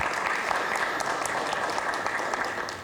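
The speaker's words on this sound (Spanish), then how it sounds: "Un aplauso para ella, por favor." Audience applause for a panel guest at a telecom conference, steady dense clapping filling the short stretch at moderate level, no voices over it.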